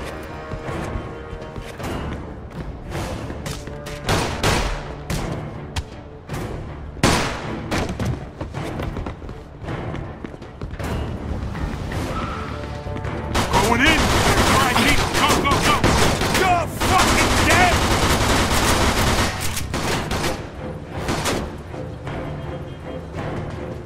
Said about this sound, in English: We got them all. Stop shooting that fucking thing.